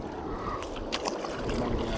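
Water sloshing and splashing against a small boat out on open water, with gurgling and a few brief splashes over a faint background wash.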